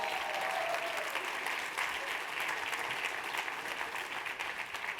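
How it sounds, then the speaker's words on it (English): Audience applause fills the room, a steady patter of many hands clapping at moderate distance for the whole stretch, with a brief voice near the start. "Round of applause."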